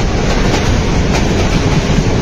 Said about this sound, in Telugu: మన పక్కనే ఒక ట్రైన్ వెళ్తుంది చూడండి, అది లోకల్ ట్రైన్.